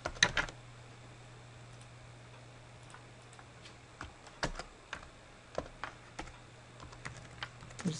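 Typing an email on a computer keyboard while setting up Microsoft Outlook 2007: scattered quiet key clicks, sparse at first then a steadier run of taps, over a low steady hum with no talk.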